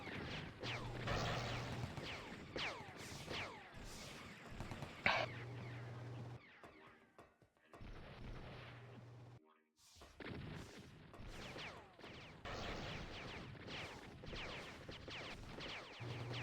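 Weapon fire from a hailfire weapon pounding a rocket turret in a Free Infantry capture-the-flag championship match, with repeated bursts of gunfire and impacts, loud and dense, pausing briefly midway, under a commentator's talk.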